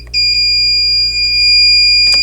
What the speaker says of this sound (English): it just makes that horrid beeping sound